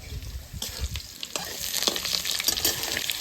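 Potatoes with spices hit a hot pan, giving a short burst of close sizzling and crackling with a few scraping stirs and clinks, moderately loud and without speech.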